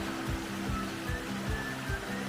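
Mountain stream rushing above a double waterfall in Zadnja Trenta, a continuous broad wash of flowing water with soft periodic low thumps underneath.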